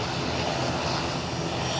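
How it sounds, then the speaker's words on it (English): A Loganair ATR turboprop airliner in Isle of Man special livery departing Edinburgh Airport, its engines giving a loud, steady drone with propeller hum throughout, no voices. "The ATR in front of you, presumably, is off to the Isle of Man."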